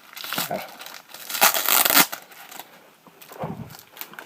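A Transformers The Last Knight trading card pack is torn and crinkled open by hand, giving close, loud bursts of rustling foil and paper in several separate rips across a few seconds.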